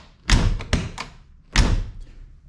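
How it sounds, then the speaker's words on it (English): Doors on a 1972 VW Super Beetle under restoration shut with a few solid, close thuds spaced about a second apart, with quiet between them. "Doors open and close."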